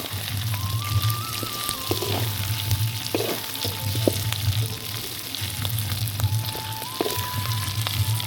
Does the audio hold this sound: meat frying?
yes